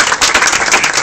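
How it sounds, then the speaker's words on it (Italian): A short, loud burst of close group clapping for divers who have just finished an open water diving course. "quindi io gli farei un applauso a loro"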